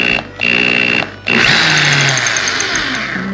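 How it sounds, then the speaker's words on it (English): An electric drill powered through the inverter of a 12.8 V lithium iron power station whirs loudly up close in two short bursts, then runs continuously with a steady high whine. "Now the drill."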